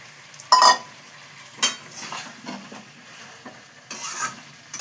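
Previously fried potatoes go into a pot of vegetarian curry and get stirred, with a few distinct clanks and scrapes of a spoon against the pot over a soft, low sizzle.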